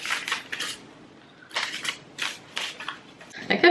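A tarot card deck is shuffled by hand in a few separate bursts of quick, crisp riffling and flicking, close up, with quiet pauses in between.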